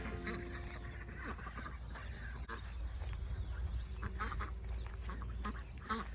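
Ancona ducks at a pond quacking repeatedly in short, overlapping calls, fairly quiet and a little distant, over a low background hum.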